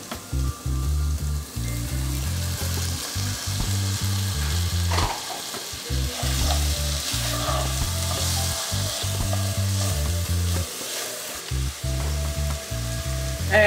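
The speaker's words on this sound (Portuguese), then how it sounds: "Agora a gente vai deixar essas verduras que entraram aí refogando, até eles começarem a dar uma desmanchada" Vegetables and tomato sauté in a pot with a continuous sizzle, punctuated by repeated stirring and scraping, close and fairly quiet, with a low rhythmic hum running underneath and no speech.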